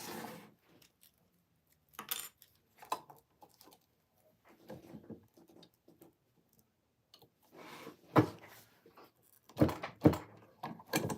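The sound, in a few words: setting a rivet in a sewn wristlet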